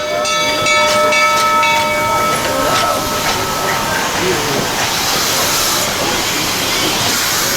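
The 1880 steam train at Keystone, South Dakota rolls past close by with loud, continuous hissing steam and rumbling wheels, an early whistle-like tone, and voices talking underneath.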